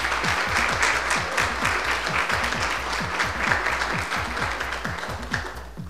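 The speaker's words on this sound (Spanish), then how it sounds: "Fuerte el aplauso para Maritere Benes." Strong applause from a studio audience at a televised fashion design competition, sustained loud clapping throughout with a low rhythmic thumping underneath.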